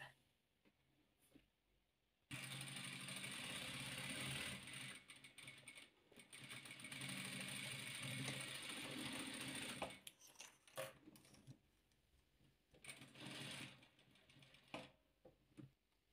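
A sewing machine joins pairs of green and red quilt squares in a long, close, whirring run of rapid stitching that pauses briefly. Shorter bursts of stitching follow.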